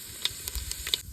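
Whole cumin seeds sizzle in hot oil, giving a brief soft hiss with a few light crackles, close and moderately quiet.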